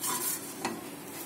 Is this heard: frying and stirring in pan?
yes